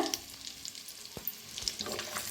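Eggs frying in a pan for egg curry seasoned with red chili powder and salt, a steady faint sizzle with a few brief stirring knocks, no talking.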